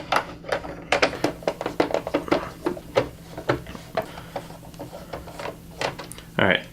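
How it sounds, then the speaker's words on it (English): Small screws are backed out of the underside of a top-loader NES console with a security game bit, giving a run of quick, close clicks and scraping taps that repeat steadily, with a brief rattle at the end. "There's 4 screws that we need to take out"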